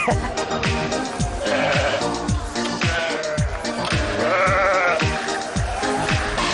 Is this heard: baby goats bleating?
yes